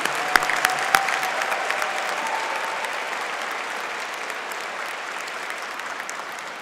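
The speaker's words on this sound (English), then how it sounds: "Let's give a big round of applause for Master of Science in Supply Chain graduates." A crowd at a 2021 university commencement applauds Master of Science in Supply Chain graduates. The clapping is steady, dense and even throughout, with a few sharper claps standing out near the start.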